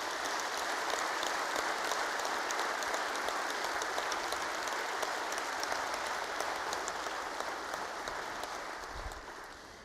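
Sustained round of applause from a large audience at a State of the State address, dense steady clapping filling the hall, slowly fading toward the end.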